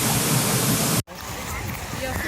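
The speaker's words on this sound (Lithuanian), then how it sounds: "Koks galingas krioklys" A powerful Icelandic waterfall roars as a loud, dense rush for about a second. It cuts off abruptly, then a quieter, steady wash of falling water continues with faint voices in the background.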